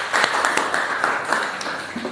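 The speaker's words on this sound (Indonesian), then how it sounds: "Aplaus untuk kita semua" Applause from a small classroom group, a sustained patter of hand claps with uneven rhythm, fairly close and moderately loud.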